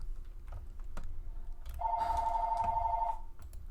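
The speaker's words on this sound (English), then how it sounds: "Oh, the phone's ringing." A telephone rings once, a bright, steady trill lasting just over a second. Faint scattered clicks come before it in an otherwise quiet room.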